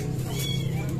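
Kittens meowing among many stray cats, thin high cries heard over a steady low hum and background noise, continuous through the short moment.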